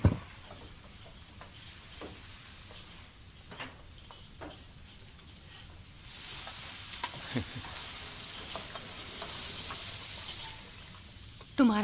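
Food sizzles and fries steadily in a pan while a utensil scrapes and taps against it now and then, and the frying grows a little louder partway through.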